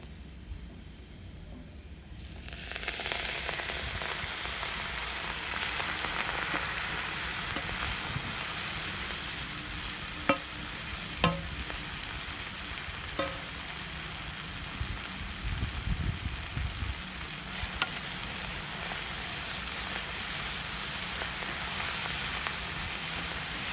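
Leafy greens (bhaji) hiss and sizzle steadily in an oil pan with turmeric, a constant crackling fry that begins after a quiet moment, with a few soft stirring knocks.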